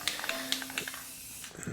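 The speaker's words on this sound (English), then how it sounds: "That is way too much spray paint." A spray paint can lets out short hissing bursts, close and fairly quiet, in a loose irregular rhythm of quick sprays.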